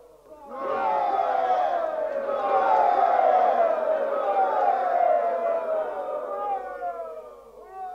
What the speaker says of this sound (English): What is all the cheering about?